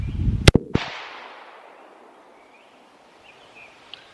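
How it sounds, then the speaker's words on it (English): A single rifle shot fired at a 1,000-yard target cracks sharply and loudly up close, then rolls away in a long fading echo across open ground, with faint outdoor ambience after. "I'm going to take one more shot just to kind of make sure."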